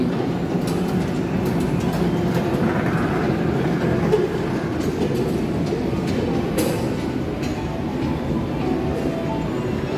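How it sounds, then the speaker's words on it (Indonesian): A train rolls past close by near Blok M Square in Jakarta, a loud continuous rumble with rhythmic clattering of wheels over rail joints and occasional metallic squeals. "ada kereta api"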